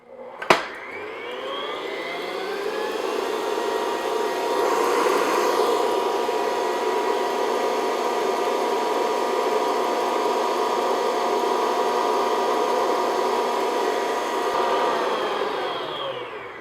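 An electric mixer beats sugar gradually into a mixture for a tres leches cake, giving a steady, close whirring drone that runs unbroken for the whole stretch after a brief sharp knock at the start.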